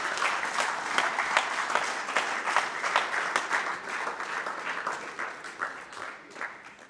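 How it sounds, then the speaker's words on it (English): A crowd claps steadily for a football coaching staff, a dense, even round of applause that holds for several seconds with no talking. "one more round of applause for this fantastic coaching staff"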